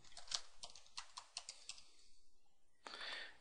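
Someone types a file name on a computer keyboard, quiet rapid key taps in short bursts with a pause, then a final cluster of clicks.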